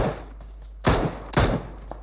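Video game gunfire during an esports scrim match: two loud, sharp bursts of rapid shots about half a second apart over a faint background.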